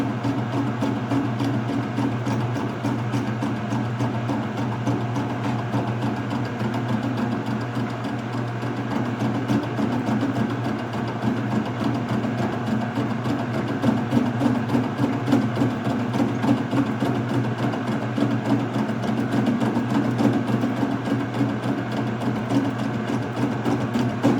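A cutting tool takes light cuts on a welded shaft for a New Holland 495 haybine crimper drive. A steady, even machining hum and chatter runs unbroken throughout at moderate level.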